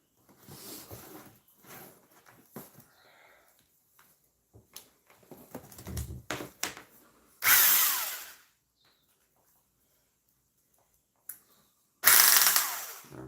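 A non-reversible power drill runs in two loud, short bursts, separated by quiet stretches of handling clatter and small knocks.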